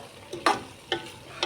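Shrimp tossed into a pan of pakbet with sweet potato, three short scraping stirs over a soft frying sizzle.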